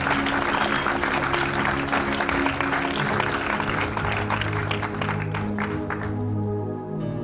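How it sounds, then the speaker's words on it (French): A church congregation at a night worship service applauds and cheers in acclamation, a loud sustained wash of clapping and crowd noise that fades slightly toward the end. "Que quelqu'un dise Amen avec acclamation. Acclame la parole de Dieu."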